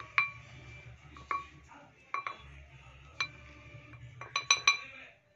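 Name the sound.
spooning custard powder into a bowl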